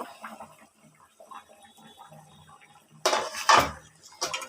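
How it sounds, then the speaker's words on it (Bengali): A lid is lifted off a pot of mung dal cooked with fish head. Faint kitchen clinks give way to a louder metallic clatter and rattle near the end, close by with no talk. "কিছু সময় পরে ঢাকনাটা উঠিয়ে নেব।"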